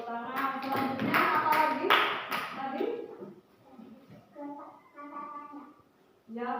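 Brief burst of hand clapping from a school class, followed by a voice speaking quietly in Indonesian, then more talk resuming at the end.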